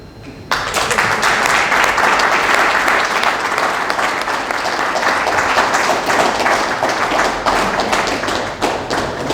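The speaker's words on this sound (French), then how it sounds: "Je pense que les applaudissements sont très éloquents" Sustained audience applause fills a book dedication event for a Kimbanguist Bible interpretation, dense and loud from start to finish after a brief quiet opening, with no talk over it.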